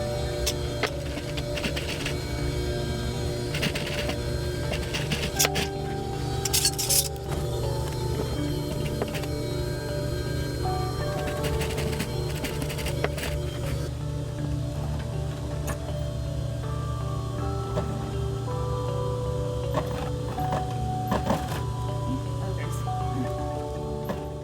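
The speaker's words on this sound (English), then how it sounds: "I will sew this part to serge everything together" A sewing machine runs steadily while stitching the waist of jeans that are being taken in, a continuous close mechanical hum and patter that lasts throughout, with a voice talking over it.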